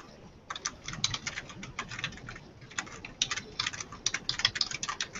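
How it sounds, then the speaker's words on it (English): Someone types a question into a shared online document on a computer keyboard, producing close, quick clusters of light key clicks with short pauses between bursts and no speech. "Keenan is typing the question now under the Google Doc that's right beneath the live stream video."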